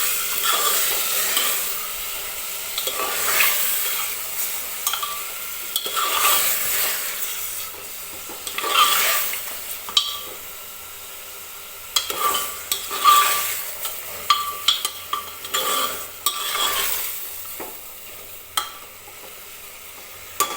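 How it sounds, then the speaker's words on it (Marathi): Mutton sautés with onions in a pan for a simple Marathi-style mutton curry, with a steady soft sizzle and repeated scraping stirs of a spoon against the pan, close by and without speech. "हे मटण टाकून घेतल्यानंतर व्यवस्थित आपल्याला सुरुवातीला कांद्यासोबत याला 2 ते 3 मिनिटासाठी परतून"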